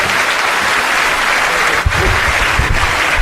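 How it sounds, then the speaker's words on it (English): Audience at a community awards ceremony in the Greater Toronto Area applauding a stand-up comedian, a dense, loud, continuous wash of clapping from a crowd with no speech over it. "Sous vos applaudissements"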